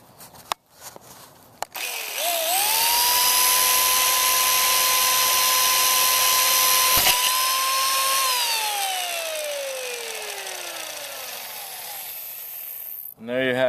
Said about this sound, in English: we're gonna see if what happens if a machete or a bladed weapon actually hits a chainsaw